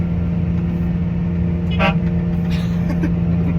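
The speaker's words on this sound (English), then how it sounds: "My favorite part is the air horn." A short air horn blast from a new 2025 New Holland forage chopper sounds once over the steady drone of its running diesel engine, followed by a few fainter toots.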